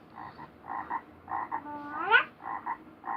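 A voice imitates a frog croak, giving short doubled croaking bursts in an even rhythm with one rising sweep near the middle, close and clear with no other talk.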